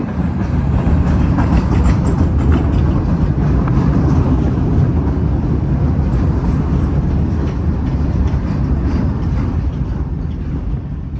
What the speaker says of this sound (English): This is another brown line train.